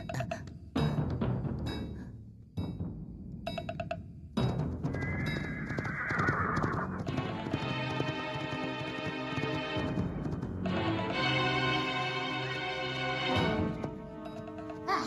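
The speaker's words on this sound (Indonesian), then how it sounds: "Ada yang datang. Tiga orang berkuda" Three horses ridden closer, loud whinnies and neighs up front with hoofbeats and clip-clop beneath, continuous and close, without speech.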